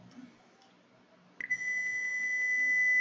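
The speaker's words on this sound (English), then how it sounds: "that was the first beep sound in the starting of the program." After a quiet moment a single steady electronic beep from a Python program starts abruptly and holds as a clear pure tone until the end.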